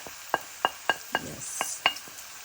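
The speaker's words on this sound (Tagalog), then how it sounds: "so, luto na yung ating onions. Lagay na natin yung ating bawang." Garlic and cooked onions fry in a pan for adobong kangkong: a light sizzle under a series of sharp, regular metallic taps of a utensil against the pan, about seven strikes, close by, with no speech.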